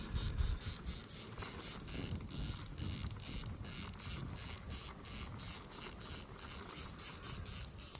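Mini Capra UTB18 RC crawler with four-wheel steering and HPI Rover tires, its rear steering servo giving quick repeated whirring buzzes in short bursts over faint mechanical rustle, quiet and close.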